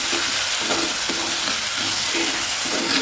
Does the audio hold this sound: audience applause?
no